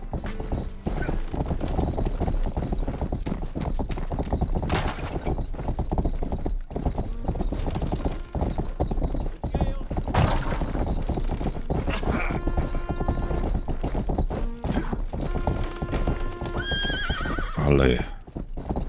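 A horse in the game Rustler clip-clops along at a steady gallop the whole way through, with a couple of loud whinnies rising out of the hoofbeats and someone talking over the action.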